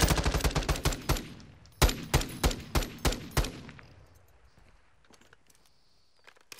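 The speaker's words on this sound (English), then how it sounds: "Say we got machine guns finally." Machine gun fire in Modern Warfare 2, loud rapid bursts of sharp shots in quick rhythm that stop after a few seconds, leaving faint background noise.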